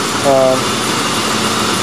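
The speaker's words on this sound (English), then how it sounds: "The engine is just very smooth and quiet." An all-original 1995 Ford Crown Victoria engine running smoothly, a loud, steady, even drone close by with no misses or knocks.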